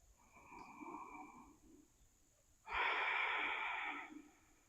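Deep, audible breaths during a yoga flow: a slow nasal inhale followed after a pause by a louder, longer, rushing exhale, close to the listener with no talk.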